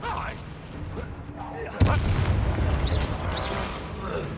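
Bombarda, the explosion spell in Hogwarts Legacy, goes off with a sharp sudden blast partway through, followed by a rumbling crackle amid busy combat noise and a voice speaking.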